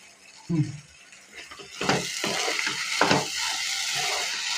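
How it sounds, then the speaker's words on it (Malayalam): Ghee poured into a hot pan while cooking with jackfruit seeds, a sudden sizzle that rises into steady frying crackle with a few scraping stir strokes, close and fairly loud, no talking. "അതിലേക്ക് നമ്മ ഒരല്പം നെയ്യ് കൂടി ഒഴിച്ചു കൊടുക്കുവാണേ"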